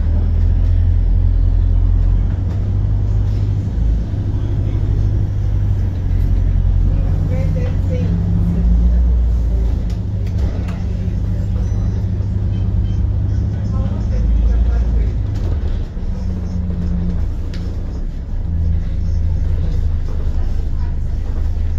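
Steady low engine rumble and road noise inside a London Superloop SL1 bus heading along North Finchley High Road to North Finchley, continuous and loud throughout with a voice talking over it.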